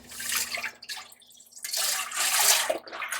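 Vegetable broth pours into a soup pot in a steady liquid splashing stream, broken by a short pause and then resuming loudly, close by with no talk.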